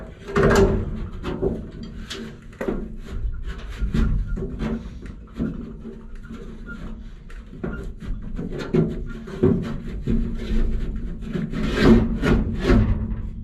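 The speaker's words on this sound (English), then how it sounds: "first step's going to be to get the glass out of that track that you removed" Window glass is worked out of the door track of a crew cab truck, producing a run of scraping, rubbing and knocking sounds at close range, irregular and uneven throughout.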